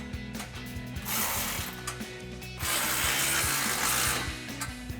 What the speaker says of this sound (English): And then we can grab a 14mm socket to tighten down the two nuts on our hanger clamp.